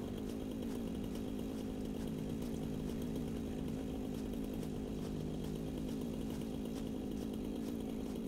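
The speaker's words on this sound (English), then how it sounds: "I'm not sure that the chainsaw will actually be able to clear these very large trees" Chainsaw cutting trees in the video game Satisfactory, a steady buzzing motor drone that runs unbroken and fairly loud for the whole stretch with no talk.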